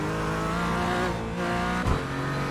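Porsche 718 Cayman GT4 in the iRacing sim with its engine droning at a steady pitch as the car slides, a brief dip and then a short lurch near the end, heard alone and without talk.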